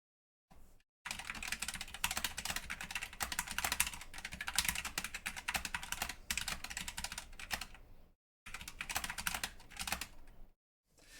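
Steady typing test on a Wooting One keyboard with linear, red-equivalent switches: a close, continuous clatter of keystrokes lasting several seconds, broken by short pauses, with no talking.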